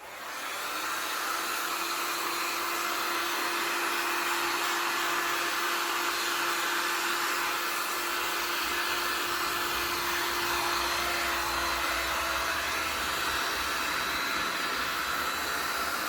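A heat gun blows hot air on high over a resin tray base, a steady, loud broadband whoosh with a faint whine running through it, continuous for the whole stretch with no talking.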